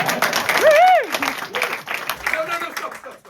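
Theatre audience clapping at a fringe comedy show, a busy spread of hand claps with a loud whistle-like voice rising over it early on and scattered voices through the rest.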